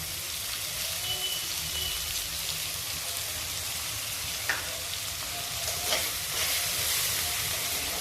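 Onion sautéing in 2 to 3 spoons of oil in a pan, a steady hissing sizzle with a couple of faint stirring clicks.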